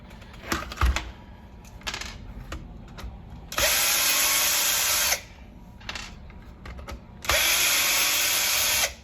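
A power drill works on the frame of a Traxxas Stampede VXL 2WD RC truck: scattered clicks and handling noises, then two loud sustained whirring bursts of a few seconds each, close by.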